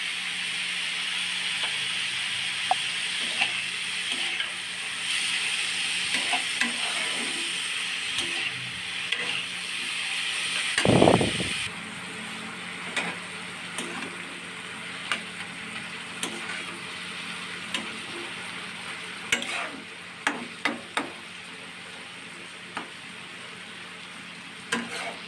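Potatoes and mixed vegetables are sautéed in a pan, giving a steady sizzle with scattered scraping stir strokes and occasional clicks, plus one louder clatter near the middle, close and continuous.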